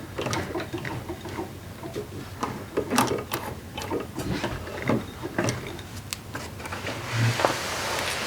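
A sewing machine stitches through heavy denim jeans fabric in a run of quick, close, rhythmic mechanical ticks, broken by short pauses and a louder burst near the end, with no talking.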